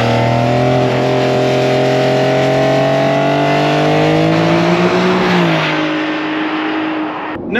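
A Porsche 911 (992) Carrera 4 GTS flat-six engine revs up loudly and close, its pitch climbing steadily through a long pull before a brief gear change near the end.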